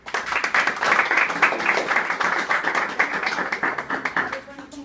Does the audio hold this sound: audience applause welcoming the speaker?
yes